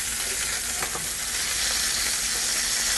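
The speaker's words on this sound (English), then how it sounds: "There are my lamb shanks browned." Lamb shanks browning in a hot pan for a lamb and prune tagine, a loud, steady, close sizzle throughout with a faint clink early on, no talking.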